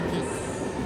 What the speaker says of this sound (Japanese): キングスクロス駅から地下鉄に乗ります